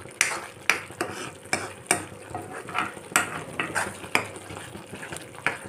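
Tomatoes cook in a pan for Punjabi dal makhani, with a soft sizzle under repeated, rhythmic spatula scrapes and clinks against the pan, close and moderately loud.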